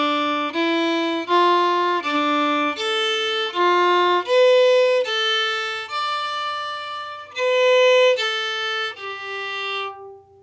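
A bright swing melody line in F, played note by note on a single melodic instrument in a bouncy, walking rhythm, each tone clear and close with no talking over it.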